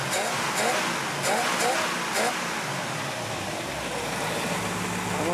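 A 1963 Chevrolet Impala SS engine runs steadily at idle, a continuous low rumble with a few brief bursts of talk over it.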